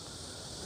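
Cicadas shrill steadily in a pine grove, a dense unbroken buzz that fills the brief moment with no voices.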